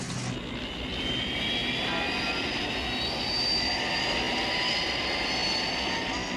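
Thunderbird jet engines roar in a sustained, loud rush that swells slightly midway and holds steady, with no talking over it.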